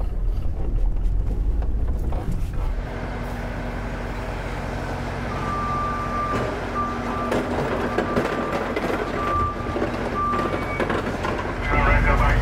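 Truck backing up at an aluminum scrap facility, with a low engine rumble throughout and intermittent high reversing beeps in the middle section. A voice talks over part of it.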